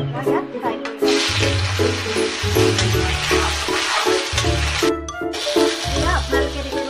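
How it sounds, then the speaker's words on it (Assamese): Food fries in a pan with a steady, bright sizzle that hisses without a break, while a person talks continuously close by over it. "এইখিনি অলপমান মই ইয়াত ফ্ৰাই কৰি দিম।"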